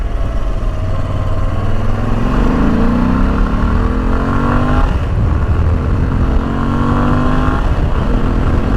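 A Moto Guzzi V85 TT motorcycle accelerates while being ridden, its engine revving up steadily through the gears with loud, continuous pitch rises, close and dominant throughout.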